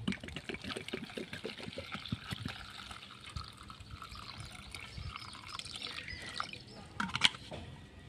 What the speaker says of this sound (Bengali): আমি এখানে কিছুটা জল দিয়ে দেব।